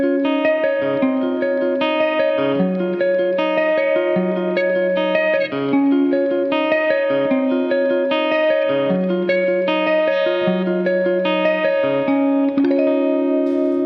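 A song's main riff on electric guitar, a steady, bright, twinkly eighth-note line with repeating bass-note changes, played alone with an effects-unit shimmer and reverb.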